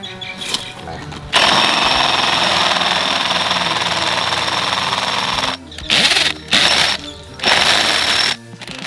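A Keyang DM18BL-W cordless drill hammer-drilling into a concrete block gives a loud, steady rattling hammer that runs for about four seconds, then stops and restarts in three short bursts.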